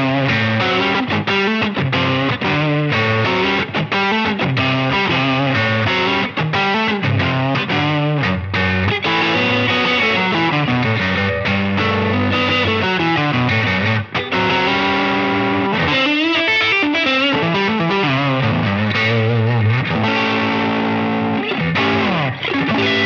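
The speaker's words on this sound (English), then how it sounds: "Let's bring the reverb in, and it sounded like this." Electric guitar with a live dirt tone, dialed in on a Line 6 Helix with low-mid boost, low and high cuts and reverb added; a loud, continuous driven phrase of sustained notes and bends rings out with spacious ambience.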